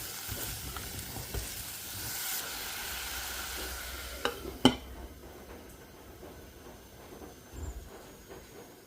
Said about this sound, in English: once everything has fried nicely and the veggies have started to soften